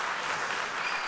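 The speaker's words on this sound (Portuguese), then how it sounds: "Vamos aplaudir essa galera" Audience applause at a church service, a dense, steady wash of clapping hands at moderate level, continuous and even for its brief length.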